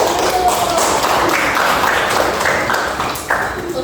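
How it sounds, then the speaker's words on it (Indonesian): A classroom of students applauds together during a guidance lesson on time management, giving brisk, close clapping that thins and tapers off toward the end. "Boleh tepuk tangan dulu."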